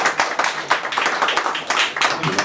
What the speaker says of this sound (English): Applause for everything.